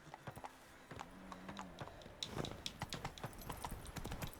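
Roach, a horse in a video game, trots along with steady, close clip-clopping hooves, joined by a brief low tonal call near the start and a few clicky taps throughout.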